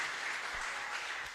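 Church congregation applauding during a Sunday celebration service, a steady wash of clapping held at an even level for the whole moment, with no voices standing out above it.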